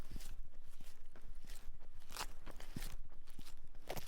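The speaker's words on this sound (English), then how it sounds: "it sounds like someone munching a food rather than walking" Footsteps from the video game Cemetery Mary, crunchy and munching-like, a steady run of soft crackling steps that continues on its own for several seconds.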